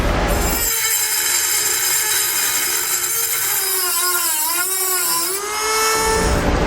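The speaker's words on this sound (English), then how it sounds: "Now I'm going to use a Dremel tool to do this." Dremel rotary tool cutting around a tube while fitting a DeeZee truck bed auxiliary tank, a steady high whining grind with a gliding pitch that holds close and loud for about five seconds, then cuts off.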